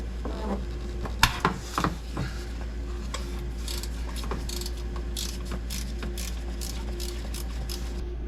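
Wrench ratcheting on bolts while removing the alternator from a G37, with a few sharp metallic clanks followed by a rapid series of small clicks, close and fairly quiet.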